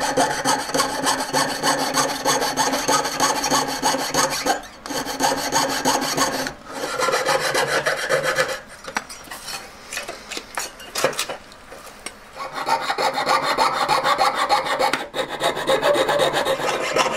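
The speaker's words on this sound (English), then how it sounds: "I can thread this saw blade through and then just zip" Hand saw blade rasping back and forth through material while cutting out a custom rear badge by hand, a steady rapid rhythmic rubbing with a few short pauses between bursts, close and fairly loud.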